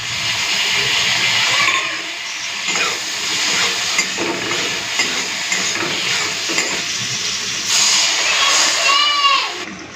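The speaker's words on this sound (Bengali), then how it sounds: "এখন ভাতের ফেনাটা গড়িয়ে দিই" Starchy water pours off freshly cooked rice in a pot, a steady watery hiss and splash with faint clinks, fairly close and continuous.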